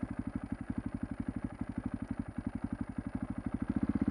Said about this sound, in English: I'm going to just continue to practice taking off, pulling in the clutch, coming to a stop.